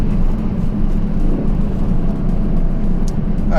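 A Ford Focus RS hatchback pulls hard at full throttle in fourth gear on a back road, its engine a loud, steady, droning roar with road and wind noise and no voices.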